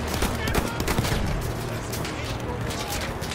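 Loud, dense battlefield gunfire and explosions from the video game Battlefield 1, set in the trenches of World War I, roll on continuously with rifle shots mixed into the din, while a voice talks over it.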